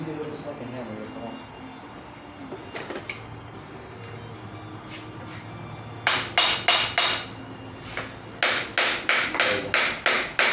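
A hammer strikes metal parts during a teardown of a 454 engine, first a few scattered taps, then bursts of sharp, rapid, ringing blows close by, with people talking in between.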